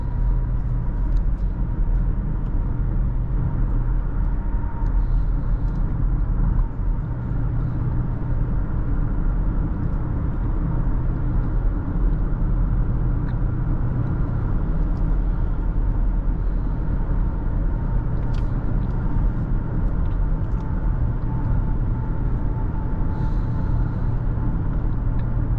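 Steady interior road noise from a 2023 Nissan Rogue Platinum on a cold morning drive: a constant low rumble and tire hum with a faint engine drone, unbroken for the whole stretch.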